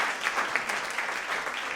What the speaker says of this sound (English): round of applause for my parents